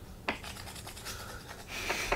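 A 3mm reamer cuts a hole in a part for an RC10GX radio-controlled car, making faint, close scraping and rubbing sounds with a few sharper scratches.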